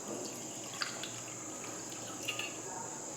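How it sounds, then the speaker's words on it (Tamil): Water is poured into a pressure cooker holding bone-in mutton for biryani, a soft continuous splashing stream with a few light splashes, fairly quiet and without talk. "தண்ணி ஊற்றிக்கலாம்."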